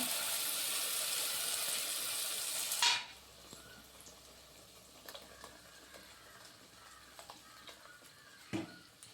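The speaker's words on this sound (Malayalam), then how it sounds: "അതിലേക്ക് നമുക്ക് ഈ എടുത്ത് വെച്ചിരിക്കുന്ന അരപ്പ് ഒഴിച്ച് കൊടുക്കാവേ" Mustard seeds spluttering loudly in hot oil for a prawn curry, until ground coconut masala paste is poured in and the crackle abruptly dies to a quiet simmer with occasional stirring knocks.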